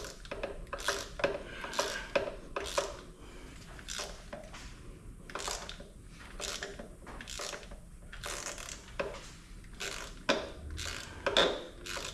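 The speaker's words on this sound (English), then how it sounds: "what I'm gonna do is tighten it, loosen it, tighten it, loosen it a few times." Ratchet wrench tightening and loosening a spark plug on a PT Cruiser engine, repeated bursts of close clicking and mechanical rasping in short uneven strokes, fairly quiet, without talk.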